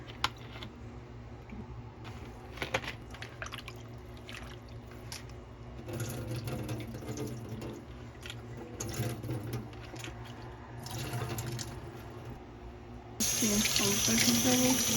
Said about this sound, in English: I'm about to wash it with vinegar.